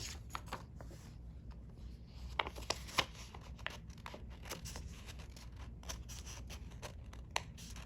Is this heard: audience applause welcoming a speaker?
no